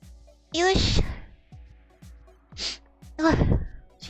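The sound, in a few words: sneeze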